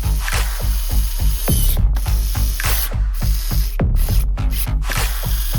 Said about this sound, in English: I will use this Leon cordless screwdriver with E-clutch.